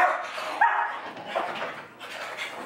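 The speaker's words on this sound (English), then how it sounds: "That is one psychotic dog right there." A dog barks and yips in sharp, excited bursts close by, with whimpery high notes between barks and no talk over it.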